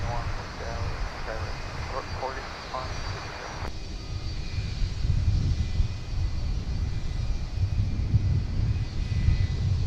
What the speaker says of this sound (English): here's Delta 2900 coming in from the Metroplex.